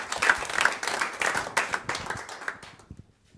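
Studio audience applause for a contestant named Tomàs on a Catalan television programme: a close, lively round of many hands clapping that thins out and fades to silence at the end.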